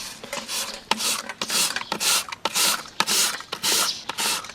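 Lettuce stem being shredded on a grater in a rural home kitchen, steady rhythmic rasping strokes about twice a second, close and fairly loud, with no talking.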